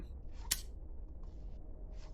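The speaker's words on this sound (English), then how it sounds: "you see right there when I pulled it out of my pocket, it made that clicking sound" A sharp mechanical click in Receiver 2 as an item is pulled from a pocket, one crisp snap near the start of the clip followed by faint soft rustles, quiet and close, no voices.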